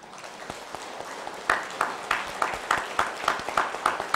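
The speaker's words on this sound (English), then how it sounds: "I want to ask President and Mehta, are you all clapping for my talk or for your health?" An audience claps after a health talk, starting as scattered faint claps and settling into a rhythmic, fairly distant group clap of regular beats roughly three per second.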